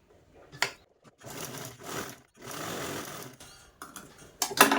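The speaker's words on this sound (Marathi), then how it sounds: "कापडाची राईट साईड समोरासमोर ठेवून घेतलेली आणि या साईडने आपल्याला स्टिच करून घ्यायची आहे" Sewing machine stitching fabric, with short bursts of whirring needle runs separated by pauses and a few sharp clicks and knocks as the cloth is handled, close and fairly loud.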